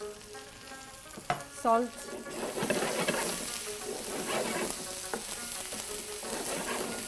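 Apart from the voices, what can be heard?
sautéing onions, ginger garlic paste and tomatoes in a pan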